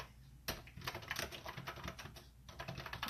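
Rapid clatter of typing on a computer keyboard, close and fairly quiet, with bursts of keystrokes separated by brief pauses.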